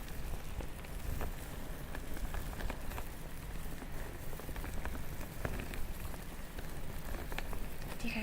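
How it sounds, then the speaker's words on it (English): Steady patter of rain drumming on a car window, dense and continuous with scattered sharper drops, fairly close and even throughout. "Rain on a car window."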